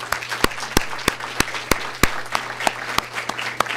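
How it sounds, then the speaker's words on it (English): Scattered audience applause at a research day session, a steady patter of individual claps with sharp, evenly spaced louder hand claps standing out over a low steady hum in the room. "I just want to give everybody a round of applause"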